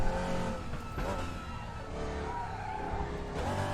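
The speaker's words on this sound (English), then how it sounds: "They've got the tyre skid sounds done really well in this." Tyres squeal continuously as a race car in the Assetto Corsa driving sim skids and slides, the screech layered over steady engine drone at close, loud level.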